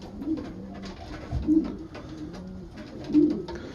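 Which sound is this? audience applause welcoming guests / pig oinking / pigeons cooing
pigeons cooing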